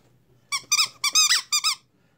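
A durable squeaky dog toy squeezes out five sharp, close, high-pitched squeaks in quick bursts against a quiet room.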